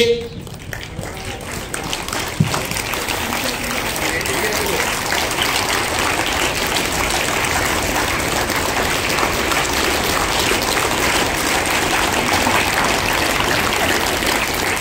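A crowd claps hands together at a yoga day gathering in Hyderabad, a dense, steady rattle of applause carrying on without pause for the whole stretch, loud and close.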